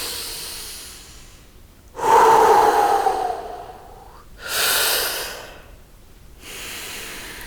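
Deep breathing during a yoga arm hold: a loud, long inhale followed by a slow exhale, then a second strong breath, close to the microphone with quiet gaps and no talking.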